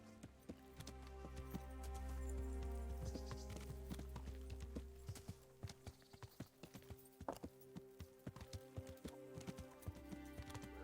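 Hooves of a horse clip-clop along an unusual path in the medieval game Kingdom Come: Deliverance, a steady rhythmic patter of close, crisp steps over a low rumbling background.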